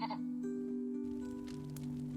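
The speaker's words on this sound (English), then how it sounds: "So now I have to feed the sheep again." Sheep bleating in a storytelling video game, a clear, close, sustained bleat that wavers in pitch over a steady tonal game background with no talk.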